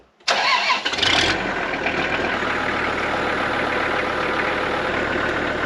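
A tractor engine cranks briefly and catches, then settles into a steady, loud, close idle that runs to the end, with no talking.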